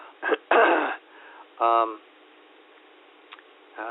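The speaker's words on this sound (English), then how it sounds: "I seem to kind of almost always have the sniffles a little bit" A few short, wet sniffs and throat noises close to the mic, in brief bursts separated by quiet pauses.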